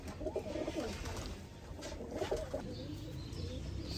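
Sialkoti pigeons in a fancier's loft coo softly in short, repeated bursts against a steady, faint background hum.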